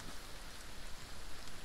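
Rain falls steadily in the video game The Front, a soft continuous hiss of drops heard faintly as from indoors, with no talking.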